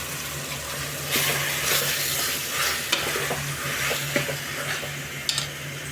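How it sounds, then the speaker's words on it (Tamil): Chicken is stirred in tomato paste in a hot pan, giving a soft, steady sizzle with scraping spoon strokes and occasional clicks, fairly quiet and close, with no one speaking. "போட்டுட்டு சிக்கனை நல்லா பரட்டி எடுத்துக்கோங்க"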